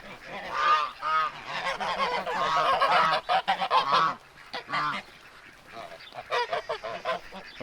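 Geese on a farm honk loudly in repeated bursts, close by, with brief pauses between the calls and a few quieter stretches.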